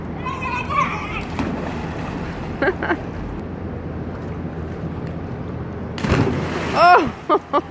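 A belly flop lands in water with a sharp splash near the end, amid children's outdoor play. Kids' voices and shouts come before it, over steady background noise.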